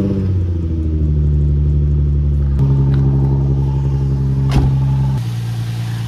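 A Nissan 350Z engine cranks, catches and settles into a steady, loud idle with a deep, even rumble close by, its pitch stepping slightly as it runs, with no talking over it.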